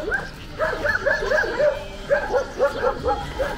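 Several dogs bark and yip on an empty seaside embankment, with a steady string of close, repeated barks and some whimpering yelps over faint outdoor background.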